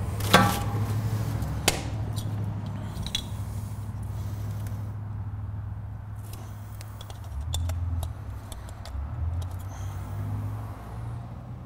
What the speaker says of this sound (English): I can feel and hear them click in place when they're actually working correctly.